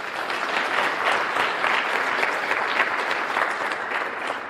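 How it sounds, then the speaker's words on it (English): School pupils at an international bridge building competition applaud together in steady, dense clapping that holds at an even level throughout, with no voices rising above it. "give yourselves a round of applause"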